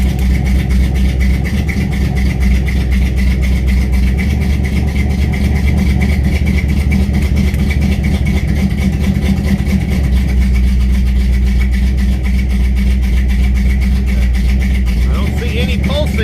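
A Chrysler Square Back car engine runs close by in a low, steady, loud idle with faint rises in pitch as it is revved, a person talking over it at times.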